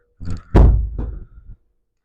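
A disc golf disc is thrown into a HYZR simulator, producing a couple of dull, thudding knocks close by, one heavy impact followed by a softer rattling settle, with no talking.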